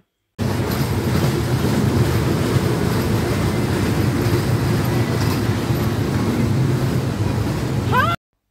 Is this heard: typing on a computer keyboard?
no